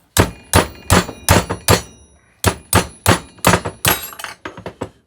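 Heavy hammer blows striking a Kurt 5-inch milling machine vise in a cold shop, a run of about a dozen loud, close, sharp metallic strikes in quick uneven bursts with a brief pause midway.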